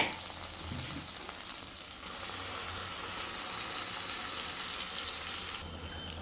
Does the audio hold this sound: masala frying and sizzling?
yes